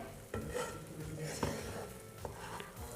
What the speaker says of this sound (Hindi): इसी तरह से अच्छी सी खुशबू आने तक हमें मैदा को भून लेना है